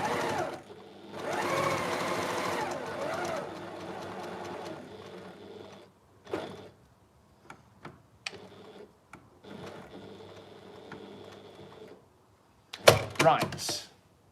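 A sewing machine backstitches a fabric storage pod in short, whirring bursts of stitching that stop and restart, with someone talking in between.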